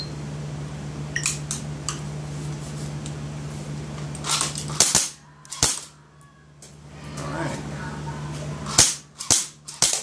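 An airsoft MP5 fires at a ballistic mask in sharp single snaps and short clusters, close and crisp against a steady hum, with no talk.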